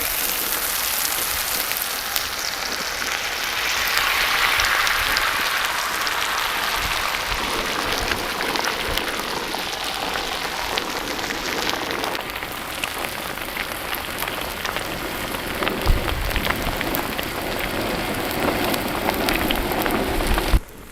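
Egg frying in oil in a pan for a tomato and egg dish, with a steady, close hiss and crackle of sizzling that runs throughout, growing busier with fresh spatters toward the end.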